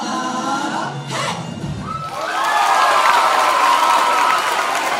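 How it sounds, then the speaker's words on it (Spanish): A television talent-show audience bursts into loud applause and cheering after a performance, the clapping swelling after a brief thud and staying dense and roaring to the end. "Ese fuerte aplauso"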